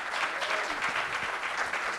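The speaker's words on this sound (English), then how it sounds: "Let's have a round of applause for all of our candidates this morning." An audience at a 2017 Atlanta mayoral forum applauds the candidates, a brief, even wash of clapping heard at a moderate distance.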